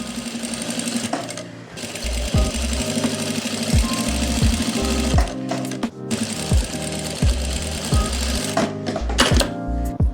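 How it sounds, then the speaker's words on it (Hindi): A sewing machine topstitches along the folded edge of a heavy Patiala salwar, running in steady bursts with a strong low mechanical thrum and brief pauses between runs, loud and close. "तो गाइज़ अब मैं ऊपर से सिलाई लगा रहा हूँ"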